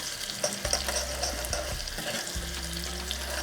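Garlic and chili frying in ghee for a tadka dal, a steady close hiss and crackle of sizzling with occasional stirring.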